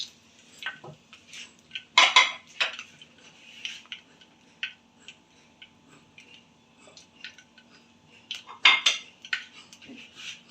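Minced meat (keema) cooks in ghee in a pan, with sharp metal utensil clinks and scrapes against the pan coming in irregular bursts, close and fairly loud over a quiet background.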